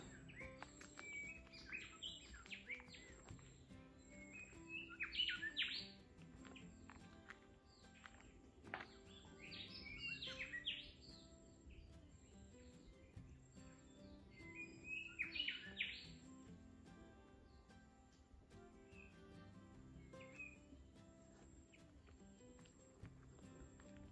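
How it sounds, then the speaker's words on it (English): Small birds chirp and tweet in short scattered bursts in a mangrove forest, fairly faint and somewhat distant, over a quiet outdoor background with a steady high tone. "Lots of little birds flying around."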